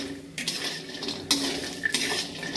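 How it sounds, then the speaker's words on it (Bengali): Bori lentil dumplings fry in hot oil for a chal kumro dish. A steady, close sizzle runs throughout, with scraping and clinking of a utensil against the pan at several points and no talking. "তো লাল লাল করে বড়িটা ভেজে নেব।"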